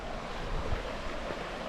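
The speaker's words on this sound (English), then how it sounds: "Got that water that flows right between there." Water flowing between rocks along a stream on the Eagle Rock Loop in Arkansas, a steady broadband wash close by, with rushing noise throughout and a few low thumps.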